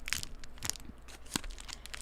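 A package is torn and crumpled open by hand up close, irregular crinkling rips with a few sharper tearing bursts spread across the moment.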